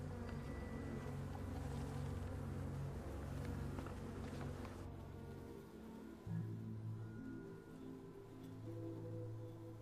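Honeybees from hives affected by colony collapse disorder swarm around the hives while samples are taken, a dense continuous buzz of many insects mixed with a low droning hum, with no voices.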